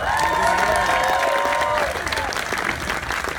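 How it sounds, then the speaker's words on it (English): An audience claps loudly and continuously at a live on-stage event, dense close applause that tapers slightly toward the end. "So everyone give a round of applause for giving me some support."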